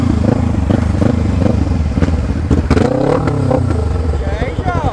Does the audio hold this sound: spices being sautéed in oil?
no